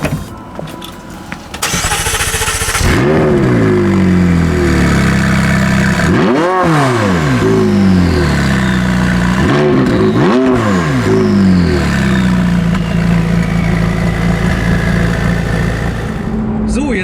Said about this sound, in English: Let's just fire it up.